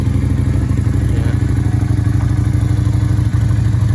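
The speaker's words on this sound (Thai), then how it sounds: "ผมเดี๋ยวลองสตาร์ทฟังเสียงเครื่องกันเลยนะครับ" A two-cylinder Lifan LF250 V16 motorcycle engine idles close by, a loud, steady, even mechanical thrum with a slight rhythmic pulse and clatter, unbroken for the whole stretch.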